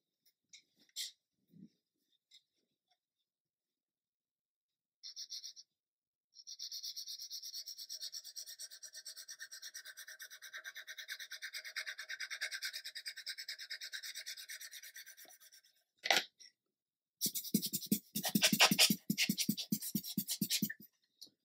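Sandpaper rasps against a 1/72 scale plastic MiG-29 model kit part, moving down through the grits in long continuous scrubbing passes, then a burst of quick rhythmic back-and-forth strokes, close and with no talk.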